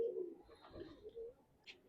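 A pigeon coos softly in a loft, a few low throaty notes close by, with a brief higher chirp near the end and otherwise quiet surroundings.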